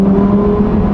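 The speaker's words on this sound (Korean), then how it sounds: "지금 스포츠 모드에서는 배기가 좀 더 박력 있게 변해주고 있는데요" A Lamborghini Huracan Performante LP640-4 exhaust in sport mode inside a tunnel, a steady loud deep drone with a resonant low hum that holds evenly for about a second.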